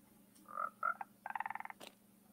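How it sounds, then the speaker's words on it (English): A frog croaks close by in a quiet room, a few short croaks followed by a quick rattling burst of about a dozen pulses, loud against a faint electrical hum. "It's Frog"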